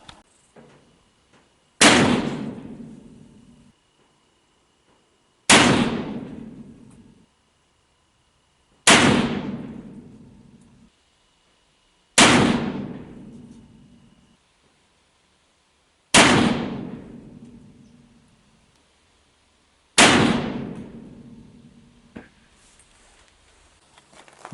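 Six loud, sharp gunshots from a Pietta 1860 Army black powder revolver, evenly spaced several seconds apart, each with a ringing decay and no talking in between.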